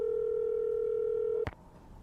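A steady telephone dial tone hums loudly and evenly for about a second and a half, then cuts off with a click as a call is placed on a mobile phone, leaving quiet room noise.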